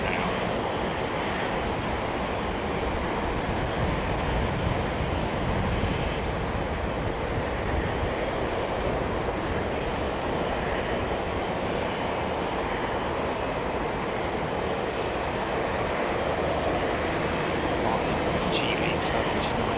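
A Turkish airliner from Istanbul at Heathrow gives a continuous broad roar, blended with gusty crosswind noise, steady and fairly loud throughout.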